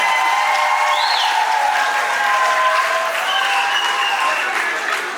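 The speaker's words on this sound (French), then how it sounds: "on applaudit très fort pour ce groupe, mesdames et messieurs" A crowd gives a group loud, sustained applause at a civil wedding ceremony. The clapping stays dense and even for about five seconds, with a few faint cheers and voices mixed in.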